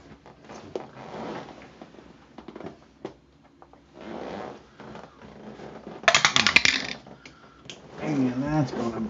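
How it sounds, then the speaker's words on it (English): Dice dropped and rolling during a tabletop baseball board game replay, a brief clattering burst that stands out between stretches of nearby spoken commentary. "and we dropped the dice."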